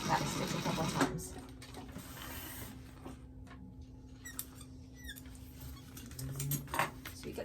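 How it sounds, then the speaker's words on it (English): A domestic sewing machine back stitches seams on a fabric doctor bag, giving short bursts of fast mechanical whirring and stitching that start and stop, with quiet handling sounds and a voice talking between runs. "Back stitch a couple times."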